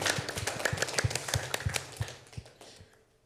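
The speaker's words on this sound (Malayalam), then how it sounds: "പിന്നെ ഇങ്ങനെ കണ്ടിന്യൂസ് കൈ അടിക്കണം." Steady, fast hand clapping from a group at a children's gathering, a dense run of sharp claps that keeps an even rhythm before fading toward the end.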